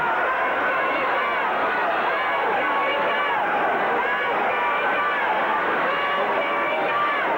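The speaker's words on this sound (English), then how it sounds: "Crowd hollering for Lawler." A wrestling arena crowd hollers for Jerry Lawler during an anything-goes match in Memphis, a dense, continuous roar of yelling and babble that stays loud and unbroken throughout.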